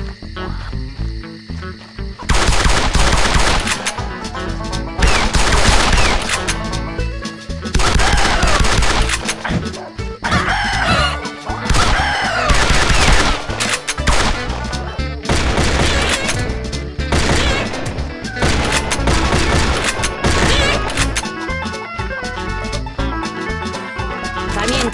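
Rapid gunfire crackles through a shooting sequence in the Redneck Kentucky video game as cans are picked off, dense bursts of shots layered over loud game music and effects, running nearly continuously after a brief quiet start.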